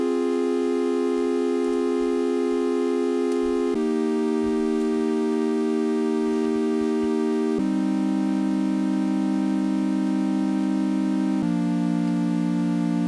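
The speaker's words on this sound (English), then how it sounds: "I'm using a pad chord sequence, so it sounds like this" Sustained pad chords from a Hydrasynth synthesizer, four smooth, rich chords, each held for about four seconds before shifting to the next, playing alone.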